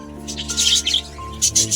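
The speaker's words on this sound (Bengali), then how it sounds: "আমি পাখির কলোনিতে ঢুকছি বদ্রি পাখির যে কলোনি" Budgerigars chirping inside an indoor bird colony, several quick high chirps and tweets overlapping close by over a low steady background hum.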